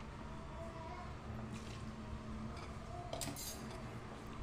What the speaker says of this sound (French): je mélange le tout avec le fouet à la main